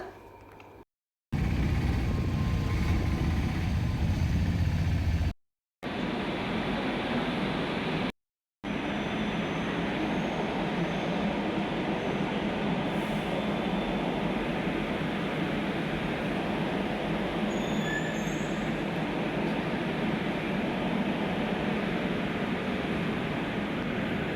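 Steady loud rumble and hiss inside a moving metro train, continuous throughout after a few brief cuts near the start.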